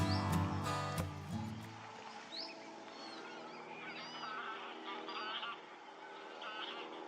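Distant black-headed gulls and lapwings call over a steady open-air hush at a reservoir, with a brief low rumble at the start and then scattered faint cries.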